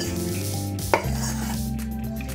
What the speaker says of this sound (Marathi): आणि छान हे 2 मिनिट आपण परतून घ्यायचं आहे।